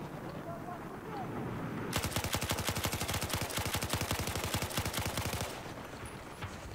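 An LMG fires a long sustained burst of rapid rhythmic shots in Battlefield 4, loud and close, while game ambience continues before and after the firing.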